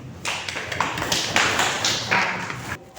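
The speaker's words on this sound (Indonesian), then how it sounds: "Beri aplaus anak-anak." Children in a classroom give a burst of applause, a dense wash of many hands clapping together for about three seconds before it cuts off.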